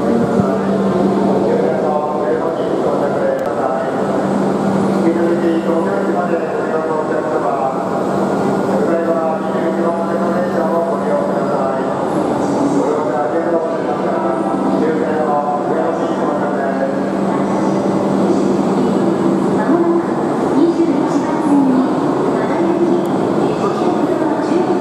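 Steady rumble and hum of a Shinkansen bullet train rolling into its terminus at Ueno Station, Tokyo, with a sustained tonal whine and people talking over it throughout.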